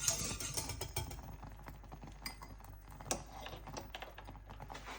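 Orange curd whisked in a pan as it thickens, a steady run of quick, light clicking taps from the whisk against the pan, fairly close and even, with no talk.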